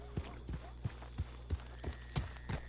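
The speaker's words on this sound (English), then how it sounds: "so I'm gonna walk my horse over here." Horse hooves walking in the video game Red Dead Online: a steady series of soft, evenly spaced clops, roughly three per second, fairly near and moderately loud over a low background hum.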